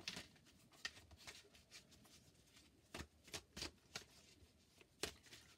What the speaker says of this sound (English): I'm just going to shuffle them away from the camera